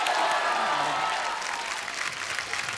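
An audience applauds loudly to welcome a film's star cast onto a stage, a dense, continuous wash of clapping that holds steady and eases slightly toward the end, with some faint crowd noise mixed in.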